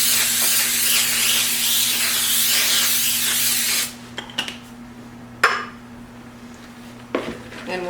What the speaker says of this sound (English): Now I'm just going to spray my pan.